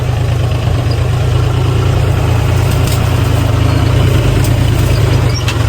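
A tractor engine idles steadily and loud throughout, a low continuous rumble with no talk over it, while the tractor is being loaded.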